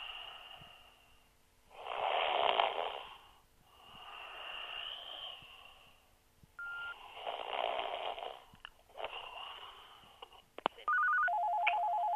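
A telephone ringtone repeating in a waiting queue, several long warbling rings in a regular rhythm, clear and moderately loud, ending in electronic tones as the line connects; no voices.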